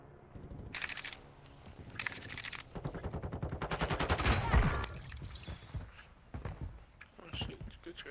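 Rapid bursts of automatic gunfire in a competitive shooter video game, with several sharp volleys, a dense sustained exchange in the middle and scattered shots afterward, heard under players talking.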